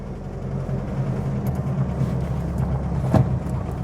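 An old car, something other than a Citroën DS, idling in first gear as it prepares to pull away: a low, steady engine rumble with a short clunk near the end, fairly close and without speech.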